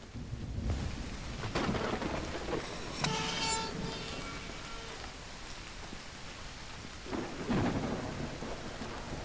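Steady rain falls and thunder rumbles in Call of the Elder Gods, with soft muted thunder rolls rising twice over a constant wash of rainfall that stays fairly quiet.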